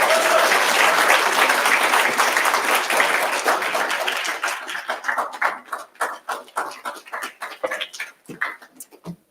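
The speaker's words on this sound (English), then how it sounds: "Let's give the Deputy Minister another round of applause." Audience applause for the Deputy Minister at the BRICS Youth Summit in South Africa, a dense roar of clapping that thins out into scattered individual claps toward the end.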